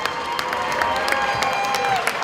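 Audience at a 2019 FIRST Robotics competition in Salem, NH applauds and cheers for the veteran teams, steady crowd clapping with scattered voices filling the hall throughout.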